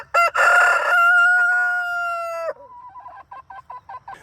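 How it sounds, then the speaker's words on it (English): A backyard rooster crows once, loud and close, in a long drawn-out call, then gives a string of softer, rhythmic clucks. "Roosters crow."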